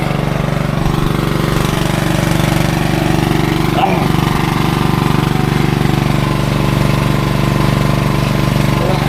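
An engine-driven water pump runs steadily, pumping water out of a dug site. Its loud, close, continuous drone holds a constant pitch for the whole stretch, with a brief clunk partway through.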